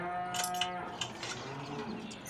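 Cattle mooing on a farm in Farming Simulator 17, several drawn-out bovine calls overlapping one another, steady and moderately loud with no talking.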